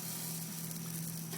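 Sockeye salmon frying in a pan, a steady close sizzle with a constant hiss and faint crackle, alone without talk.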